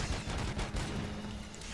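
Gunfire in the Robocop Rogue City game, a dense crackling barrage of overlapping shots and booms, loud and continuous throughout the short stretch.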